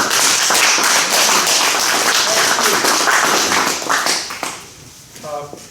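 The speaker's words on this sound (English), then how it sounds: "I think we'll give John a round of applause" Applause breaks out at a trucking company awards meeting, a dense, steady clatter of many hands clapping that holds loud for about four seconds before thinning out and fading as a voice starts to speak.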